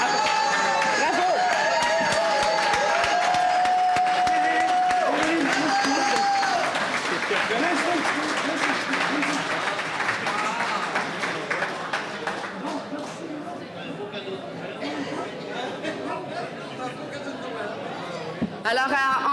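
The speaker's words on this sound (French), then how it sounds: "à entendre vos applaudissements" An audience applauds at a National Assembly medal ceremony: loud, dense clapping runs for close to twenty seconds, easing off slightly near the end, with crowd chatter and voices mixed in.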